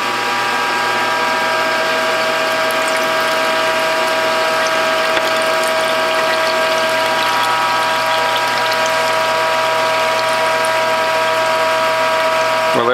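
A Whole Health Foundation juicer runs steadily while juicing apple and ginger, a loud continuous mechanical whir with a grinding, ratcheting texture and a sustained motor hum.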